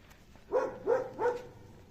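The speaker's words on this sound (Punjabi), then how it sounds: "ਆ ਕੁੱਤਾ ਸਾਨੂੰ ਦੇਖ ਕੇ ਭੌਂਕਣ ਲੱਗਾ ਆ" A dog barks at visitors arriving in a hillside village in the mountains of Italy, giving three short barks in quick succession from a moderate distance, with no talking over them.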